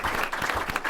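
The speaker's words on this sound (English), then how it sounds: "So just a round of applause for all of you." A crowd claps in a brief burst of dense applause at a ceremony honoring James Billington, Librarian of Congress Emeritus.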